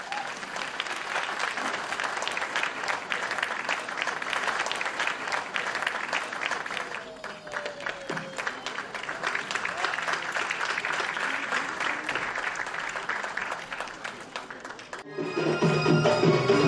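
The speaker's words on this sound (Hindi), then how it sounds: "जोरदार ताली प्लीज।" An audience at a televised Doordarshan Sahyadri cultural programme breaks into sustained applause, many hands clapping in a dense, even roar that holds steady, dips briefly, then swells louder near the end.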